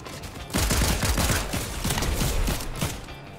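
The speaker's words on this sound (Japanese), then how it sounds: "こちらで銃声が鳴ってます" Rapid bursts of gunfire from the video game Fortnite crackle loudly and densely, overlapping shots rattling nonstop for about three seconds.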